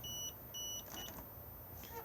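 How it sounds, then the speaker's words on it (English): The 12 volt control panel in a Lunar Clubman ES caravan gives two short, faint electronic beeps in quick succession when pressed, followed by quiet handling sounds. "if I do press this, it's going to beep at us because we're not hitched up to a tow vehicle"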